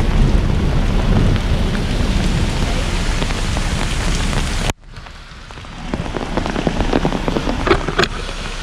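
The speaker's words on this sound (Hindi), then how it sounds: "यहाँ पे बारिश हो रही है" Heavy rain in Uttarakhand pours steadily in a dense, loud wash, briefly dropping quieter midway before building again with scattered drips and patters close by.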